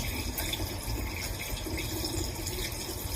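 Water runs steadily from a kitchen tap as dishes are rinsed off, a continuous close splashing rush with no pauses over the whole stretch.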